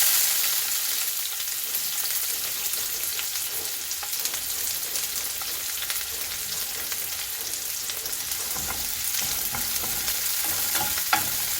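Sliced onions sizzle in hot oil in a kadai, a continuous bright frying hiss with occasional stirring scrapes and small crackles, close and steady with no talking.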